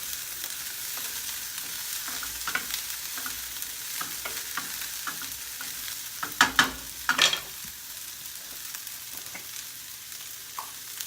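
Onions sauté in a pan under a low, even sizzle, broken by a few clattering stirs and utensil clinks partway through.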